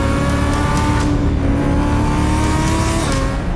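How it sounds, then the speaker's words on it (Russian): A powerful Lamborghini sports car engine rumbles loudly and continuously nearby, its deep tone steady with a slight rising rev. "послушайте этот звук мотора"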